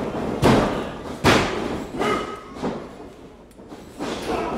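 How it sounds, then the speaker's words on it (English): Several heavy, dull elbow strikes land in a professional wrestling ring, loud thuds spaced about a second apart with crowd noise in between. "Oh, what an elbow. Did you hear the impact on that?"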